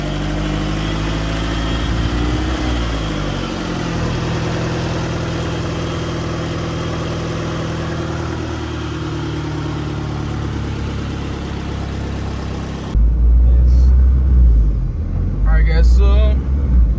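A turbocharged Honda Civic engine, running rich, idles with a steady low rumble, then cuts to louder, heavier engine noise near the end.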